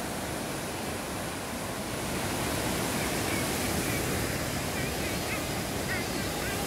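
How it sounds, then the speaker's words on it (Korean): A river flowing briskly at night after a typhoon's rain, its steady broadband rush of water loud and continuous throughout, with faint bird calls above it. "물소리 참 경쾌하죠."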